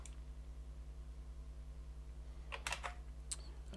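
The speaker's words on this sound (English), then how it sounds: "That sounds like it's the user typing on the keyboard." A few faint keystrokes click on a computer keyboard over a steady, low electrical hum, grouped closely together near the end, with no voices.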